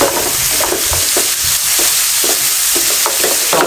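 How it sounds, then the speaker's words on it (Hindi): Chopped onion cubes fry in a pan, a steady close sizzle with stirring scrapes that repeat in an uneven rhythm the whole time. "ये इसमें थोड़ा सा ऐसे फ्राई कर लें आप"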